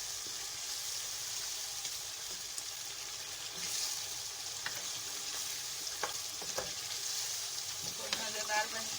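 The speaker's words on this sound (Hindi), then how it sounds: "दोबारा भुनेंगे इसको अच्छे से दही के साथ," Chicken frying with yogurt and green masala in a karahi for a green chicken curry, a steady close sizzle with occasional stirring clinks and scrapes, no voices.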